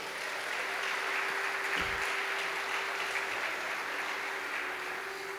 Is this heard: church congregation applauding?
yes